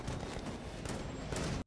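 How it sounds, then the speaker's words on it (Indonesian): Gunfire from a shootout scene in The Matrix Resurrections, a dense, continuous burst of shots and action noise filling the whole clip at steady loudness before cutting off abruptly. "Adegan tembak-menembak pun terjadi."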